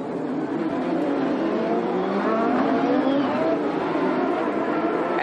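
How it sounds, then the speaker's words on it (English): An IndyCar race car screams past at speed with a sustained, loud engine whine that shifts in pitch as it goes by, set against steady track noise. "As the car screamed past, Mansell fought to control the car and get out of the way of passing traffic"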